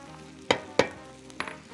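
Onion with tomato sauce and hot pepper frying in a pan on high heat, with a soft continuous sizzle and a few sharp clinks of a utensil against the pan.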